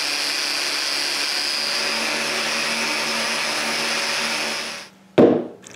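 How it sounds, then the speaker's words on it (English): Wooden post for a spinning Christmas ornament display being power-sanded: a steady, loud whirring grind runs without a break for almost five seconds, then cuts off, followed by one short knock. "Now this needs to be sanded."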